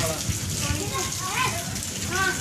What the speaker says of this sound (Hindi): नहीं बारिश चल रही